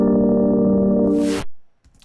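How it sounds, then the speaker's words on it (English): Reverb processed through a wave shaper saturator in Ableton, giving a loud sustained distorted tone that swells into a harsh noisy burst, cuts off abruptly, then leaves a faint brief tail. "we can get very interesting distortion that sounds like this"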